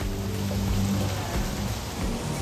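Rain falling at Volcano Bay water park in Orlando, a steady close hiss of drops on surfaces with no talking.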